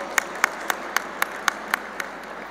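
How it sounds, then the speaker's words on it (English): Clapping for Dr. Jain at a Naturopathy Day celebration: about nine sharp, evenly spaced claps in a steady rhythm, fairly faint over a quiet room, with no voices. "A round of applause for Dr. Jain, please."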